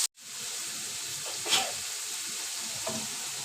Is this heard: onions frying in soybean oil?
yes